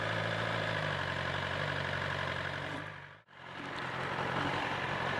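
A BMW motorcycle engine idles steadily with a low, even rumble, briefly dipping to near silence midway before the idle resumes at the same level.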